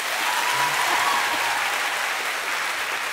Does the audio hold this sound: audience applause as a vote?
yes